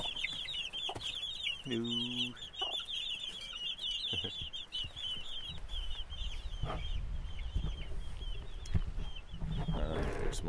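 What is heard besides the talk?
chickens clucking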